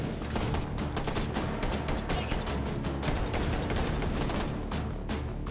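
Glock 22 pistol gunfire in the VR game Hot Dogs, Horseshoes & Hand Grenades: a rapid string of sharp, closely spaced shots rings out loud and near, with no talking over it.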